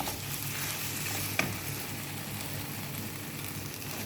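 Corn kernels sizzle and crackle steadily in a pan while being stirred for a sauce macaroni dish, with one sharp clink of the utensil partway through and no talking.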